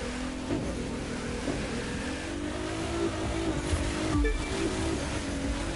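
A racing car engine in The Crew 2 holds a steady, loud roar under nitro boost through the final lap, with a slight rise in pitch and a brief surge near the end.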